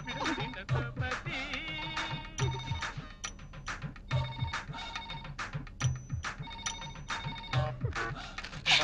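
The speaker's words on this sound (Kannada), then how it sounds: "ಫೋನ್ ಹೊಡ್ಕೊತಾ ಇದ್ದೆ, ಫೋನ್ ಎತ್ಕೊಳ್ಳೋ." A telephone rings over and over in an even rhythm of bright electronic bursts, clear and alone with no talk, in a Kannada family movie.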